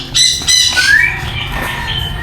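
A pet parrot squawks loudly and close by in several harsh, shrill calls in quick succession, then quieter rustling noise follows.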